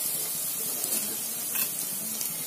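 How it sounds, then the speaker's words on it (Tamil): Finely chopped onions sauté in hot oil in a pan for leftover chapati podimas, giving a steady, close, even sizzle with faint stirring scrapes and no talking. "வெங்காயம் நல்லா வதங்கிடுச்சு."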